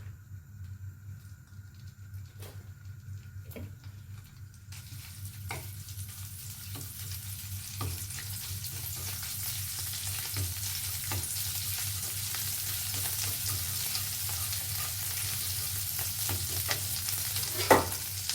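Red curry paste stir-frying in an old pan: a steady close sizzle with scraping stir strokes and a low rumble that builds after the first few seconds and holds to the end.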